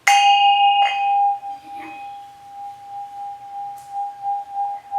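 A resonant bell used in a sound-healing session rings after being struck with a striker, a steady sustained tone near 1 kHz with a second strike around one second in, decaying slowly and shimmering for several seconds.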